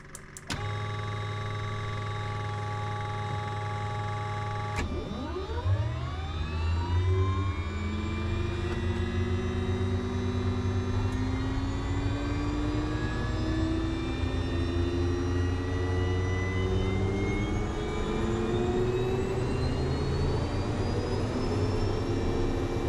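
A turboprop aircraft engine starts up: a steady tonal hum gives way at a sharp click to a rising turbine whine, layered tones sweeping upward and settling into a loud, continuous spool-up roar, with no talking.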